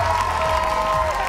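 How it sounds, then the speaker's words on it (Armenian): Studio audience at an X-Factor Armenia gala show applauding the makeup artists, a steady wash of clapping and crowd noise with sustained musical tones running underneath. "ծափանենք մեր դիմահարդարներին"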